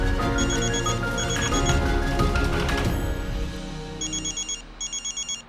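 A mobile phone ringtone rings loudly over a busy musical background, then repeats as a clear series of short, evenly spaced electronic bursts near the end.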